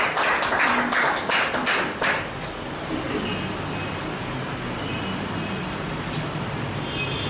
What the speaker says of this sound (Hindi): एक जोरदार तालियां इनके सम्मान में